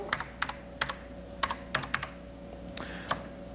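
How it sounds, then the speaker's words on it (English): An email address is typed on a computer keyboard, with a steady run of crisp, close key clicks at an uneven pace over a faint background hum. "we'll type in the email address"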